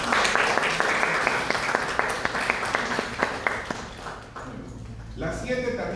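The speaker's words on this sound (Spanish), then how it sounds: "un fuerte aplauso para nuestra compañera." Students in a classroom clap for a classmate, producing dense applause that thins and dies away after a few seconds, with a voice talking over it.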